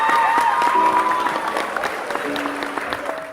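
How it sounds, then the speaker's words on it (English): Applause with some crowd cheering, a steady wash of clapping that fades a little toward the end, with tonal musical notes sounding alongside. "So give yourself an applause right now."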